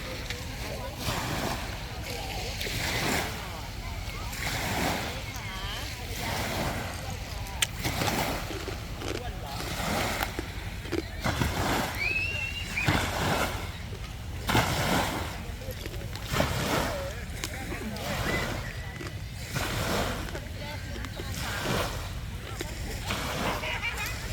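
Sea waves wash in a steady rolling surf at a beachside seafood restaurant in Ranong, under almost constant talk close by.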